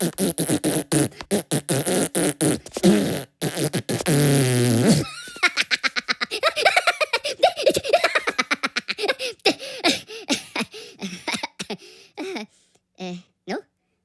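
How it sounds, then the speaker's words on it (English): Repeated fart sounds, some long and drawn-out, others short bursts, mixed with giggling and laughter in an Indonesian grammar lesson; a voice speaks among them. "Do you like farts?"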